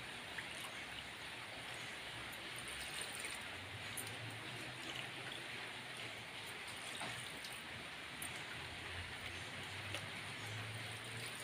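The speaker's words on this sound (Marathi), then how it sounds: "4 वाट्या पाणी घालून घेत आहे।" Steady broadband rush of water being poured into a cooking pot for a taro leaf curry, continuous and fairly even throughout, close by and alone without talk.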